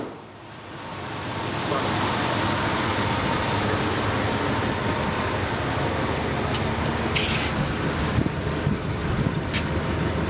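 A 1978 Ford F150 truck drives along with its engine running, a loud steady rumble mixed with heavy wind and road noise on the microphone, with no talk over it.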